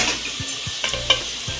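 Onions sizzle in a pan as they are fried until light brown for a dhaba-style potato and eggplant dish, a steady hiss with brief stirring scrapes.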